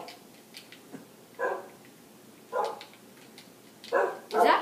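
A dog in the Minecraft video game on Xbox gives several short, fairly faint barks or yips, spaced a second or so apart and growing a little louder toward the end, with no talking.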